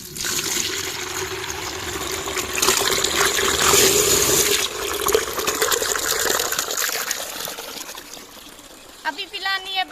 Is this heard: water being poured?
yes